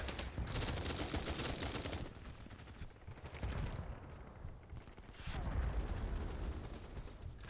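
Heavy automatic gunfire in a video game, loud rapid bursts from several weapons overlapping in dense volleys, easing briefly midway before swelling again.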